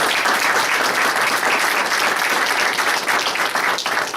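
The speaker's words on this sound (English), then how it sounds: "So round of applause for all of these folks." An audience at a board meeting claps steadily and loudly for several seconds, a dense, even applause with no voices standing out.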